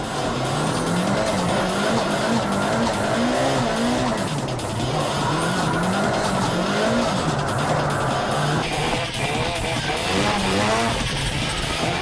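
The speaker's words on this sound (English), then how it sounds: "The drivers will each take turns drifting and weaving through the stopped cars." Loud, continuous tire squeal from tuned cars drifting and weaving through stopped cars, pitch wavering up and down over roaring engines throughout.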